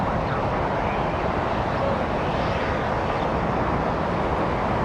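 An Airbus A300 airliner at Los Angeles International Airport makes a steady, moderately loud jet roar, a continuous broadband rumble with no clear peaks and no voices.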